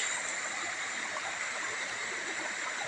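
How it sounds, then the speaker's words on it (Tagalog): A river stream flows in a broad, steady rush of water at moderate distance, continuous and even with faint gurgling, no talk over it. "Maganda itong ilog na to."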